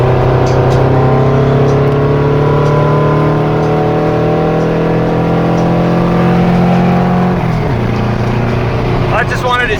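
An engine fitted with 44 IDF carburetors drones loudly at wide open throttle inside the car, a steady sustained roar that holds its pitch before dropping off sharply near the end.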